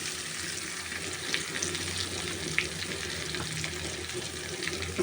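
Tilapia fish pieces frying in hot oil give a steady, dense sizzle with faint crackles and an occasional pop, continuous and close throughout, no talking.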